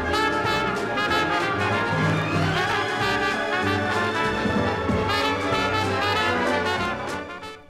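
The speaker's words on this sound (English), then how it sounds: "two separate programs of music which sound like this when played together at the same time" Two pieces of music overlap at once on a stereo demonstration record, an orchestral passage layered over a jazzy rhythm, both cut into the same groove and played by one stylus, dense and continuous before fading at the end.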